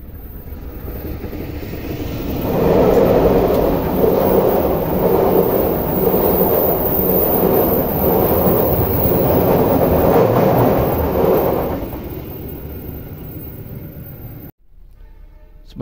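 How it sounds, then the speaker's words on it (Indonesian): An express train rolls across railway bridge 780 in heavy rain, a loud, sustained rumble and clatter that swells over several seconds and then fades, with rain hiss underneath throughout. "Bentar lagi kereta Papandayan akan lewat ya di jembatan 780"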